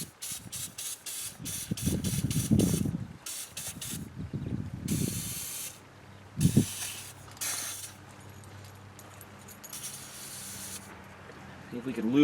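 Several short bursts of aerosol lubricant sprayed onto the engine linkage of a long-neglected 1970 Ford LTD Country Squire, loud hissing blasts separated by pauses, with clicking and faint mechanical noise between them.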